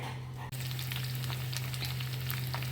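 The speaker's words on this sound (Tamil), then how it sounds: "இப்போ நான் மிளகாயை போட்டுட்டு அதை கொஞ்சம் நல்லா வதக்கிக்கலாம்." Split green chillies dropped into hot oil sizzle loudly and steadily right after a brief pause, a close, continuous frying crackle with no talk.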